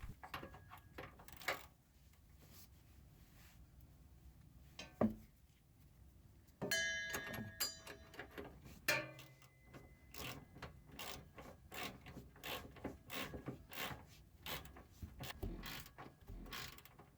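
A hand ratchet tightens the upper rear shock bolt on a Chevy Avalanche, steady rapid clicking strokes close up, broken by a brief pause and a few metallic clanks before the clicking resumes.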